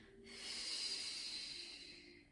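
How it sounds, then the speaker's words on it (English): A person breathes out loudly during a foam roller Pilates core exercise, one long breathy exhale swelling and fading over about two seconds, near and fairly quiet. "Hence why I'm breathing so loudly, so you feel it's okay."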